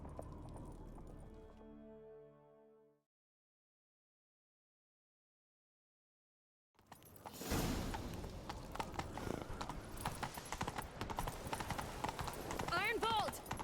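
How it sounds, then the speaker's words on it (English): Horse hooves galloping in The Witcher 3, a fast rhythmic clatter that starts after a few seconds of silence and continues loud and close, preceded by a fading music swell. "Grab a horse, we'll chase him down."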